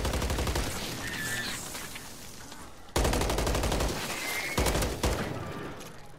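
Rapid bursts of automatic gunfire fired from the hip in Call of Duty Modern Warfare 3 Zombies, sharp dense volleys in several clusters with brief pauses, loud and close.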